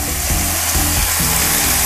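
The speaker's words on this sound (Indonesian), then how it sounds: "setelah kita giling bumbunya, di sini saya akan tumis ya" Ground spice paste for Sundanese pepes ikan sautéing in a pan, a loud, dense and continuous frying sizzle, close up and with no voices.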